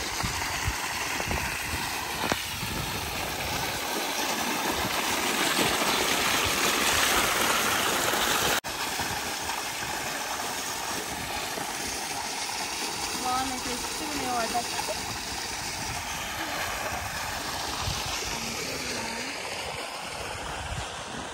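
An irrigation pump motor running in village fields, pouring gushing water into channels that feed young banana plants; a continuous loud rush of water fills the clip while people talk over it.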